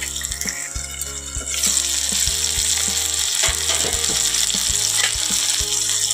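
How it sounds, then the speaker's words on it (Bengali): Potatoes sautéing with spices in a pan give off a loud, steady sizzle and crackle, punctuated by repeated knocks of a spoon against the pan as they are stirred. "আর একটু কষাবো।"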